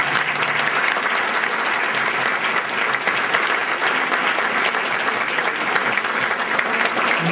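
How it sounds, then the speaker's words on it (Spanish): A church congregation gives a strong, sustained round of applause at a Spanish-language novena Mass for Our Lady of Guadalupe, dense and steady clapping filling the whole stretch with no break. "Vamos a darles un fuerte aplauso a estos hermanos."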